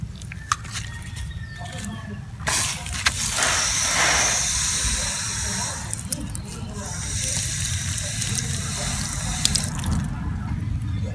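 Water is poured onto soil around a freshly replanted aloe vera, splashing and trickling close by, with handling noises and a continuous low rumble in the background.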